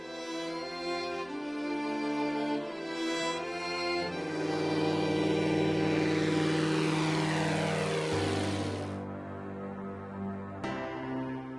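A light propeller airplane flies low over open South African woodland, its steady droning engine swelling and then shifting in pitch as it passes close by and fades slightly away.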